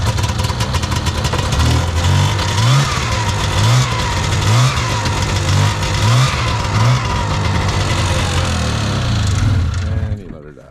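An Arctic Cat snowmobile engine runs loud and close, a rough, pulsing idle with repeated revs rising and falling before it cuts out near the end.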